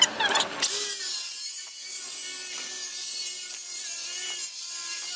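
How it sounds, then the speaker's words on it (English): A circular saw set just over an inch and a half deep cuts Western Red Cedar deck boards, starting with a sharp blade bite and then a loud, steady high whine that holds through the cut, with no speech. "I'll set the depth of the circular saw, just over an inch and a half"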